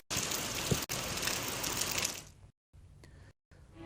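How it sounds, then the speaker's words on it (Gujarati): Dense rain with strong wind pours loudly for about two seconds, then the sound fades and cuts out in short bursts before trailing off. "ભારે પવન સાથેનો આ વરસાદ જોવા મળી રહ્યો છે"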